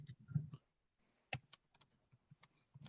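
Computer keyboard typing during a podcast recording: scattered soft clicks and taps in irregular bursts, faint and close, with a brief pause midway.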